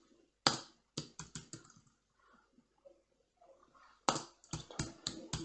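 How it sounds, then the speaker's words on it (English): Keys clatter on a computer keyboard in two short bursts of quick, crisp presses with a pause between them. The typing is close and clear in an otherwise quiet room. "So I'm going to type that in."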